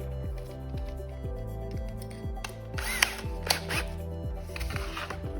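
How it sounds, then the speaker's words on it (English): A power drill bores holes with a long 1/4-inch bit, the motor whining steadily with repeated speed changes in short bursts, close and fairly loud, with a couple of sharp clicks partway through. "Now we're ready to drill our first holes."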